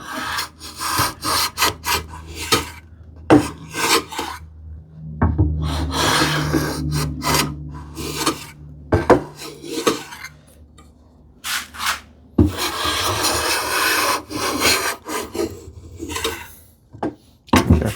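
A hand plane with a waxed or oiled sole shaves wood in a series of close, rough strokes of varied length, with short pauses between passes.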